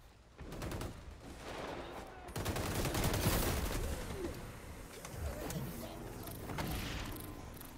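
Gunfire in a chaotic multiplayer shooter video game map, bursts of shots mixed with other game sounds and effects, fairly loud and continuous with several distinct impacts.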